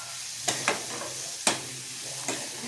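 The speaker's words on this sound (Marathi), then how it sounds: "तर त्याला हलवून घेते थोडंसं आम्ही." Spicy food frying in a pan with peas and hot chili, stirred by hand: quiet sizzle underneath with four or five sharp scraping stir strokes at irregular intervals, close and fairly soft.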